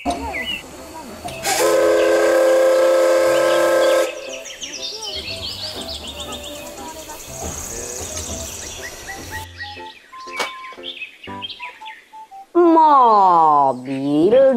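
Battery-powered Thomas toy train running with mechanical whirring, a loud steady whistle-like tone, then varied toy sound effects and a rising, warbling horn near the end, with occasional speech.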